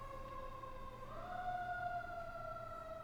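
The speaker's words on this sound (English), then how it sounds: "Sorry about the siren." A wailing siren sweeps up and holds a steady tone, moderately distant, over a low rumbling background; no voices.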